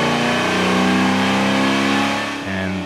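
A 1969 Chevrolet Nova engine revs hard on a chassis dyno, a loud, steady mid-pitched roar with a rich harmonic drone that holds for over two seconds, then drops briefly and comes back slightly lower.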